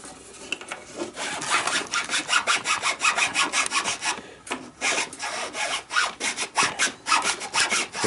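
Chainsaw file rasping against ash wood as a notch in a longbow is polished, a close, rhythmic back-and-forth scraping of rapid strokes with brief pauses.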